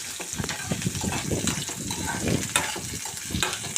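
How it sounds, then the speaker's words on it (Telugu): Chopped onion and green chili frying in a pan for tomato rice, a dense close sizzle with bursts of stirring and spattering throughout, fairly loud. "ఉల్లిపాయ ముక్కలు, పచ్చిమిర్చి ముక్కలు ఇంట్లో వేసుకొని బాగా వేయించుకోవాలండి."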